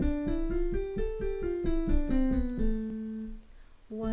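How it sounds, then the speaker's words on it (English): A minor scale is played on an instrument and sung, the notes stepping up and back down one by one in an even rhythm, clear and close, then a single new note enters at the end. "let me play and sing the minor scale for you guys."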